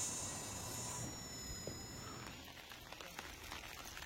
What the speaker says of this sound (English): Do you hear that rain?